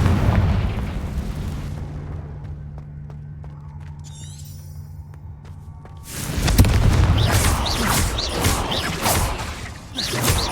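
A Confringo blasting spell in Hogwarts Legacy sets off a loud, rumbling explosion after several seconds of quieter hum and clicking, then the roar keeps crackling near and heavy to the end.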